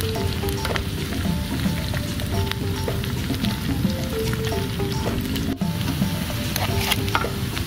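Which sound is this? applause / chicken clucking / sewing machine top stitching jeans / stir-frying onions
stir-frying onions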